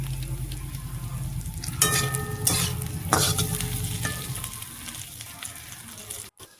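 Lightly pre-boiled potato pieces frying with cumin powder, vegetable masala and red chili for a paneer-potato bhujia: a continuous close sizzle with a few loud scraping stirs of the spatula in the middle, fading toward the end.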